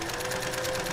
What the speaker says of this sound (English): I get up and start it at the sewing machine